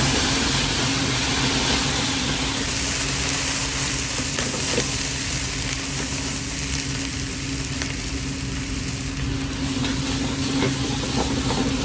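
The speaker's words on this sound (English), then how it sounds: "Now I'm gonna add some garlic and then some wine." Garlic and wine sizzling hard in a pan for lobster pasta, a loud, continuous steamy hiss that holds steady without a break, with no talk over it.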